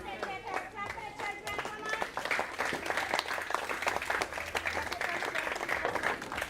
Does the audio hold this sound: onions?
no